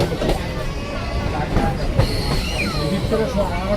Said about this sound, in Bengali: আর এখন আমাদের ট্রেন ক্রস করছে রানাঘাট কারশেড।